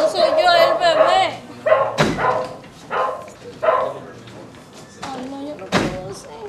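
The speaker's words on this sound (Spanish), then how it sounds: "han venido perros, hasta de Herrera ha venido perro aquí" Dogs bark in several sharp, separate bursts spread across several seconds, mixed with people talking over them in Spanish.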